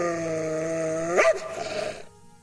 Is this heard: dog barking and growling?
yes